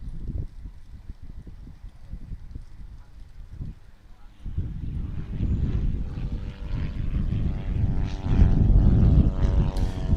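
A STOL aircraft's propeller engine drones during a competition run at a Louisiana STOL event, quieter at first then swelling louder as the plane nears, with voices talking over it.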